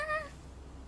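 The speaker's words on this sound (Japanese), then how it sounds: "本当に猫が暴れちゃった" A cat gives one short, high meow at close range, and the clip falls quiet after it.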